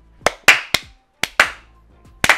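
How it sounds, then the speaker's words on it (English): Two people, a father and son, clap their hands at home while watching a movie trailer, six separate loud sharp claps spaced irregularly, close up, with brief room echo after each and no talk. "Let's clap."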